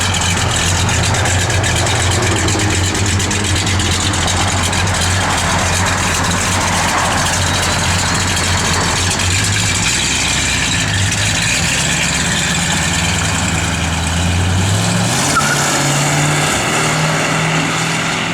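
Low, steady rumble of a 1967 Dodge Coronet R/T engine idling close by, loud and continuous, with the tone shifting slightly partway through and no talking.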